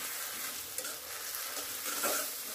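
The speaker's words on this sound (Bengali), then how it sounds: "তো আমি এখানে নারিকেলের দুধ দিয়ে সমস্ত মশলা কষিয়ে নেব।" Spices frying and being stirred in coconut milk for a prawn malai curry, a steady close sizzle with soft spoon scrapes running throughout, slightly brighter near the end.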